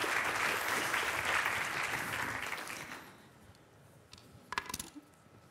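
A conference audience applauds as a Volvo Ventures speaker is welcomed on stage. The clapping is loud and full for about three seconds, then dies away into a quiet room with a few faint knocks and taps.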